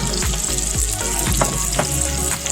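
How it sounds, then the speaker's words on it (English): Close, crackling sizzle of meatballs frying in a hot skillet, a dense steady hiss punctuated by soft pops and occasional clinks. "Hear the sizzle."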